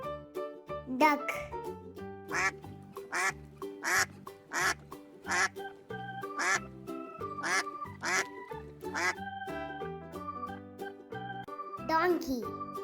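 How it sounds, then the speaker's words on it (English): Repeated duck quacks bounce along in rhythm over cheerful children's music, several short quacks in a row. "duck,"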